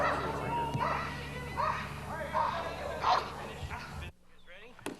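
A police dog barks repeatedly in several sharp, spaced bursts at a moderate distance, under someone shouting commands.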